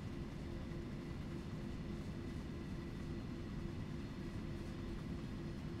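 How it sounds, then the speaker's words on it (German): A container train rumbles along steadily in Train Sim World 3 on a route toward Augsburg, a continuous low droning roll with faint rhythmic clatter and no talk. "So, fahren wir schön an einzelnen Stationen vorbei mit unserem Containerzug."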